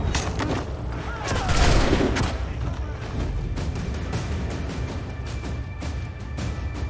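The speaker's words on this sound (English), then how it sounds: "They're about to shoot again." Loud volleys of musket and cannon fire in Assassin's Creed 3, with booming blasts and a crackling fusillade up front, then a steady din of battle, with a voice talking over it.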